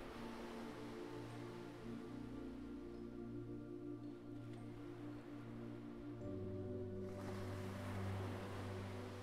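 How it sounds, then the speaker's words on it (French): Gentle ocean waves rise and fall in a soft, continuous surf wash, faint and distant, blended with a steady low ambient drone. "Visualisez l'horizon infini de l'océan devant vous, avec ses vagues s'élevant et retombant en douceur."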